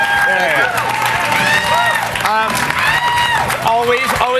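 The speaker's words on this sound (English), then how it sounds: "clap for Cliff" A crowd at the E3 2008 show claps and cheers for Cliff Bleszinski, loud mixed applause and whoops running throughout with voices shouting over it.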